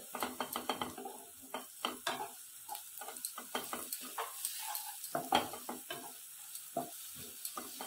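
Oyster mushroom masala with turmeric frying in a pan over a low flame, with soft sizzling under a stream of scraping, clinking stirring strokes that keep a steady, busy rhythm.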